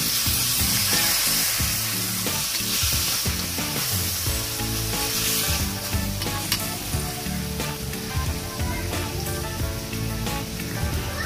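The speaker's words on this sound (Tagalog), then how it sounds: "Mag-isa muna tayo ng bawang, sibuyas at kamatis." Garlic, onion and tomato sauté in a hot pan with steady, loud sizzling, broken by scraping stirs throughout, and there is background music.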